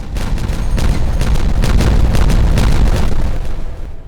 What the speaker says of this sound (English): There we go, and detonate.